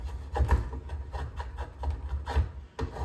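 A draw knife shaves thin strips from a wooden self bow stave held in a vise, giving a series of rough rasping strokes at close range, each pull a short scraping burst with brief pauses between.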